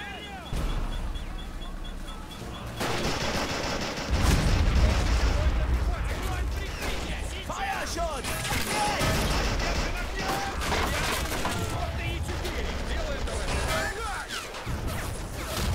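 Soldiers' gunfire and explosions in the war video game Men of War, a continuous loud barrage of shots and booms with dense battle noise throughout.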